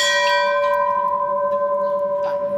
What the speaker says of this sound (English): So now, The gong.